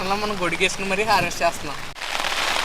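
Steady rain patters on garden zinnia plants while a person talks over it; after a brief pause the rainfall continues alone as a dense, even hiss.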